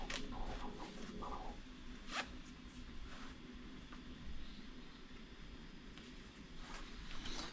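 A strap being tightened on an Iron Man Mark 38 suit gives a series of close, rasping zipper-like pulls in short repeated bursts over a steady background hum, with no talking.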